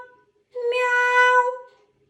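A cat's meow voiced for a children's guessing game, one clear, close, drawn-out meow standing alone after a short faint sound.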